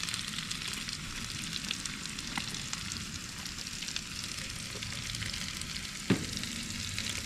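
Bacon browning in a single layer in a Dutch oven gives off a steady, dense sizzle and crackle, fairly close and unbroken, with a brief scrape of a utensil near the end.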